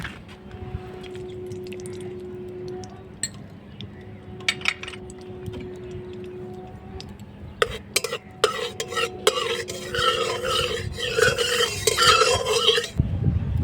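Ghee heats in a hot kadai for semolina kheer mohan while a spoon stirs and scrapes, with sharp metallic clinks early on and denser sizzling and scraping building in the final seconds.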